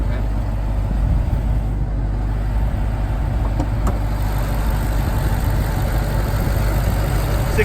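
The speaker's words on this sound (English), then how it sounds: "Gotta show the Hemi." A stock Dodge Charger SRT Hellcat's 6.2-liter supercharged Hemi V8, rated at 707 horsepower, idles steadily up close with a deep, even rumble and a faint high whine, and nobody speaks over it.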